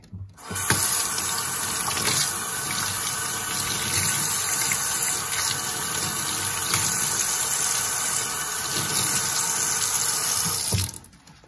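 Tap water runs steadily into a sink for about ten seconds while handmade soap is wool-felted, a continuous loud close splash and hiss with no talking, starting and stopping abruptly.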